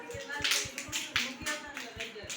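Children in an indoor play game clap fingers against their palms to imitate rain, a quick run of sharp, even taps in a steady rhythm, close by, with a voice talking over them.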